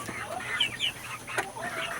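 Young chickens cluck and chirp busily in a grow-out pen, several birds calling over one another at moderate distance with a few sharper squawks.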